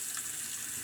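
Water from a bathroom tap runs steadily into a sink while being left to heat up for a shave, a close, continuous hiss with no talk.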